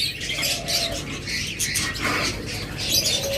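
Several small caged pet birds, including lovebirds, budgerigars, cockatiels and finches, chirp and tweet in quick, scattered bursts, fairly close, with a faint rustle of movement around them.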